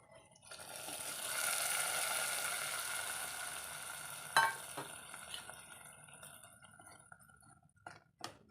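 A tempering of small shallots and curry leaves sizzles in hot oil and is stirred into a salted-mango pulissery curry. The sizzle crackles loudly at first, then fades, punctuated by a few sharp clinks of utensil against the pan.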